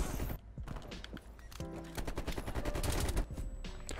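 Bursts of XM4 assault rifle fire in Call of Duty Cold War rattle out in quick automatic strings, fairly quiet in the mix with game sounds in between and no talk.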